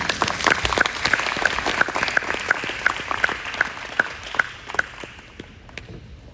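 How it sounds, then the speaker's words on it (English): An audience at a keynote event breaks into applause, a dense run of clapping that stays steady and fairly close for several seconds. "Let's give another round of applause for Ms. Jamie Newman."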